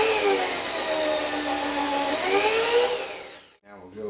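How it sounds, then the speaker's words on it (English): A power drill runs steadily, boring holes in a Volkswagen 1915 engine's valve cover with a 5/32 bit, a continuous high whine that winds down near the end, followed by a brief stretch of quieter sound. "I'm going to start with a 5/32 bit and work my way up to a 7/16"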